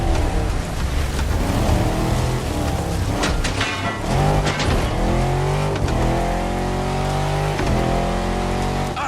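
An old Defender with a V8 engine in The Crew Motorfest racing game, driving a slippery downhill slope through curves, its engine droning loudly and steadily, rising and falling in pitch as it works through the bends.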